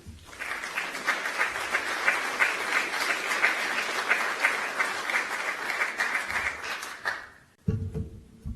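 Sustained, dense applause from a seated audience welcoming General McKenzie, the CENTCOM commander, holding steady for about seven seconds before tapering off into a brief lull and a faint voice.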